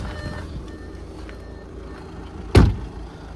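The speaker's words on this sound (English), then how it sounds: "We'll hear a beep and the windows will go up, completing the cycle." White 2014 Audi A5 2.0 TDI S-Line Cabriolet finishing its roof cycle outdoors: one short, sharp beep stands out clearly near the end over a low steady background hum.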